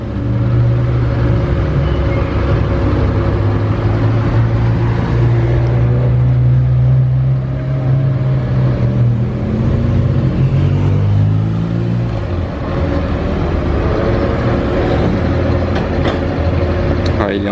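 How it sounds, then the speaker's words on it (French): A McLaren Senna pulls away from the casino in Monaco, its engine a loud, deep, continuous rumble that swells and shifts in pitch amid general street traffic noise. "Et la McLaren Senna qui bouge enfin du casino"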